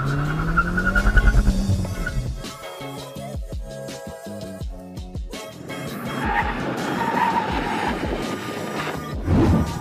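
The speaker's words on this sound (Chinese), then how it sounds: "手牌车我很久没开，我们现在试一下。" A 275-horsepower manual-transmission hot hatch on PGO tyres is driven hard around a test course with straights, corners and braking, its engine revving up and down loudly through gear changes and tyre noise, without talk.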